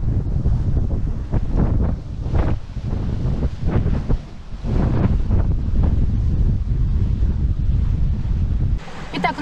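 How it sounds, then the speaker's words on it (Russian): Strong wind buffets the microphone aboard a Proto Mini 800 offshore sailing yacht at sea, gusting loud and roaring with wave wash beneath, easing briefly before surging again. "Сейчас дует около 10 узлов, недавно еще дуло пятнашку, подскисло."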